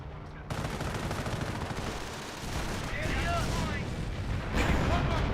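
Mortar and gunfire boom and rattle in a dense, continuous wash of battle noise in Company of Heroes, loud throughout.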